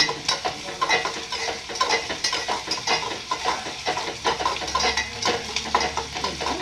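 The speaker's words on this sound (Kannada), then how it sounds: "ಹಸಿ ವಾಸನೆ ಹೋಗೋ ತನಕ ಸ್ವಲ್ಪ ಫ್ರೈ ಮಾಡ್ತಾ ಇರಬೇಕು." Onions frying in a pan, stirred with a spoon, a continuous sizzle with regular scraping strokes, close and loud, no speech.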